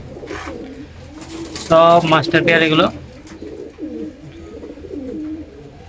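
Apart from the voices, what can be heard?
pigeons cooing in a loft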